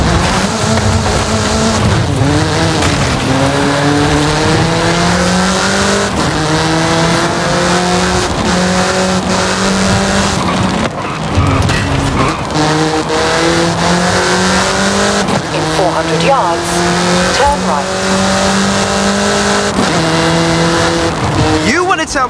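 A car is driven hard through the Forza Horizon 5 mission Made in Mexico. The loud engine revs rise and fall through repeated gear changes, with tire squeal and skidding, while voices talk over the driving.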